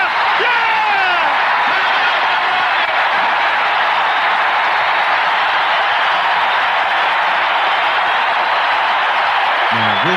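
A home crowd roars after Michael Jordan's game-winning shot in a basketball game on a radio broadcast, a loud, sustained wash of cheering and whooping that holds steady throughout.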